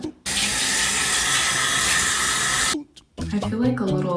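Water hisses from a tap for a few seconds during skincare prep, a steady, close, spraying rush that cuts off abruptly, followed by a person speaking.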